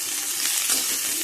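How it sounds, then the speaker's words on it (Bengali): Cabbage, carrots and beans frying together in a wok give off a loud, continuous close sizzle, with slight swells where the vegetables shift. "গাজর বিনসটা দিয়ে একটুখানি প্রথমে ভেজে নেব"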